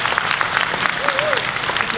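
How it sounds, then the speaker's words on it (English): A large audience at the VidCon 2015 creators keynote applauds steadily throughout, a dense wash of clapping with a faint voice briefly audible beneath it. "You can applaud."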